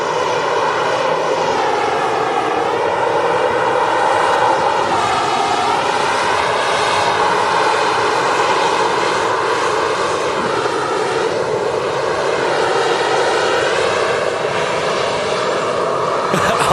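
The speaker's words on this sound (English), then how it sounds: "this aircraft is in from Istanbul" An airliner arriving from Istanbul roars loudly and continuously at Manchester Airport, its engine drone steady and close, with a shifting whine as it passes.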